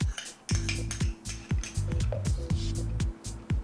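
A metal spoon clinks and knocks against a cup or pot while agave is stirred into non-dairy milk such as almond or soy milk, giving a string of close, irregular rattling taps and ringing chinks without speech.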